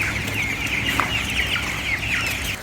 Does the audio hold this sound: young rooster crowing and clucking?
yes